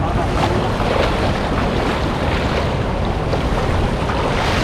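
A fast-flowing river current rushing steadily, a broad, loud, continuous roar of water with wind buffeting the microphone, and no voices.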